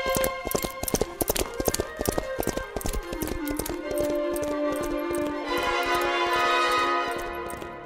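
Horse hooves clip-clop in a steady, close rhythm over light background music as a rider sets off toward a castle in a Beauty and the Beast story.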